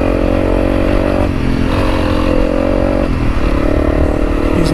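A Honda CRF300L motorcycle accelerates hard on an open stretch of a trail ride, its loud engine climbing in pitch through gear changes with steady close-up roar and some clatter, no talking.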